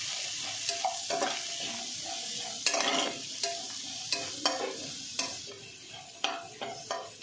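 Beans, cabbage, green chilli and capsicum are stirred in a hot pan, a continuous close sizzle and fry under repeated scraping strokes of a spatula against the pan, with regular sharp scrapes standing out above the hiss.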